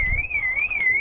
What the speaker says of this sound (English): oh, see, the alarm went off